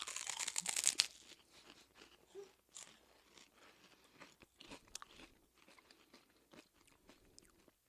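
Spicy pork rinds crunch and crackle close up as they're bitten and chewed, a loud burst at the start followed by scattered softer crunches and munching, with no talking.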